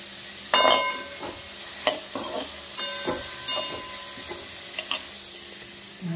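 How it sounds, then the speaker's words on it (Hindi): Onion and chilli tempering sizzling in a pan with boiled corn nearby, a steady close frying hiss broken by sharp clinks and scrapes of a spoon stirring against the metal. "प्याज मिर्च का तड़का है"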